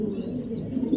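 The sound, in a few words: racing pigeon cooing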